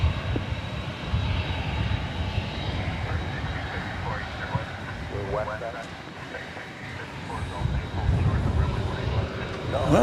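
An aircraft engine roars steadily at DFW Airport, a broad continuous rumble from a plane nearby on the ground, while someone speaks over it.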